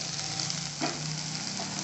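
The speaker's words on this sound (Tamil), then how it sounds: "இந்த ஆனியன் நல்லா கொஞ்சம் வதங்கட்டும்" Onion sautéing in a pan gives a steady, even sizzle that runs through the whole stretch, with one brief scrape partway through and no talking.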